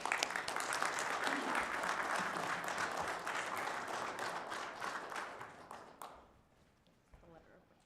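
A room of people at a Chesterfield Township board meeting claps in a dense round of applause for a community recognition award, fading out after about six seconds, with talk mixed in.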